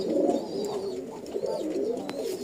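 Pigeons, a black pair of Rajgolla birds kept for sale, coo in low, rolling, repeated calls close by, with a faint chirp or two in the background.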